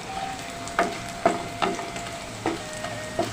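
Crispy bitter gourd slices in frying oil, with sharp utensil scrapes and taps repeating about every half second over a faint sizzle.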